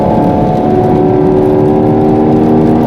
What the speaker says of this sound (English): And when I hit the throttle a little bit, you can hear